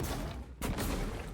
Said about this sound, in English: Glue cannon won't stick to this.